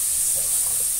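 Colorau paprika frying in oil for baked cod: a steady, close bright sizzle and hiss that keeps going throughout, with a faint stir or clink near the end.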